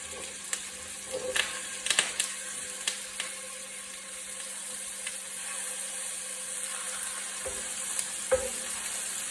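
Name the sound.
meatballs frying in grapeseed oil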